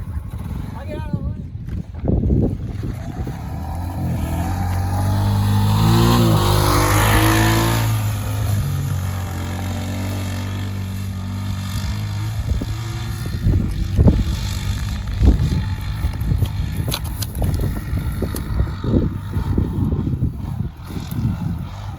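Turbo and stock Honda Pioneer 500 side-by-side buggies drag racing, an engine revving and accelerating past in a rising, swelling roar before fading to a rough idle rumble, with people talking over it.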